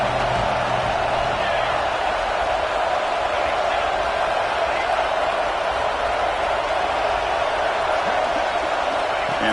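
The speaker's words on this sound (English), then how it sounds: "here comes the noise. This crowd is trying to inspire this defense to make a big red zone stop." Loud, dense roar of a college football stadium crowd in Iowa pushing the defense in the red zone, a continuous wash of noise with no breaks for the full length.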